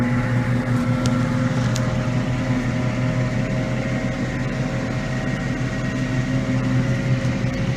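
A Ferguson tractor driving along a road, its engine a steady droning hum with a constant low rumble, close and continuous for the whole stretch without speech.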